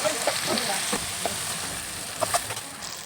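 Onions and chopped tomatoes sauté in a pan with a steady close sizzle, broken by a few soft scrapes and taps of a stirring spoon throughout.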